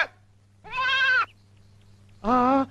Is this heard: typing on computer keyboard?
no